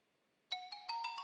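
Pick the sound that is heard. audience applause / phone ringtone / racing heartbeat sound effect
phone ringtone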